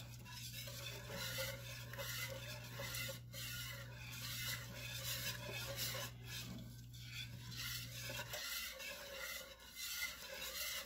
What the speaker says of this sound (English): Stir that. Make sure you deglaze the bottom of the pan.